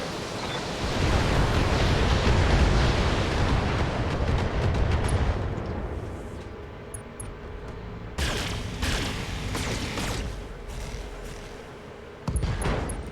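Mech weapons fire in the game Battletech, heavy roaring blasts that swell into a long rumbling barrage, then a run of sharper cracking impacts and a final loud burst, with no talking.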